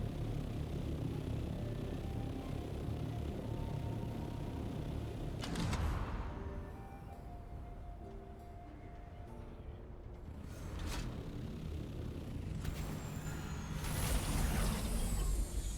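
Ship or aircraft from the Dune game setting down near a building's front steps: a steady mechanical engine drone with sharp hissing bursts and whooshes, fairly close, no talking.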